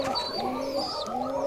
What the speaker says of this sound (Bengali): এগুলো বাচ্চা কবুতর, রাজশাহী লোকাল গিরিবাজ